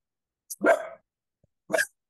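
A cockapoo barks twice, close and sharp, each a short single woof with near silence around them.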